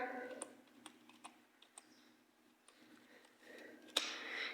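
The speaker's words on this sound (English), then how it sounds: "For suppose we are going to type here" Keys on a computer keyboard tap in a quiet, uneven run of individual clicks at close range, with a slightly sharper keystroke near the end and faint room hiss between strokes.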